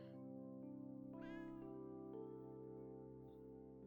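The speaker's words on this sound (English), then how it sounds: "The meowing is a cat I haven't found yet." A cat meows once or twice in the Hidden Paws Mystery video game, soft and fairly faint over a steady, sustained musical drone.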